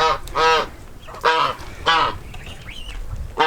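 Geese and goslings honk in several loud, harmonic bursts close by, each call a strong nasal blare with short pauses between, a few softer calls in the gaps, outdoors with no talking.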